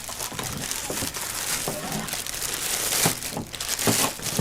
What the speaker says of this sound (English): I'm going to go ahead and take the plastic bag off of it.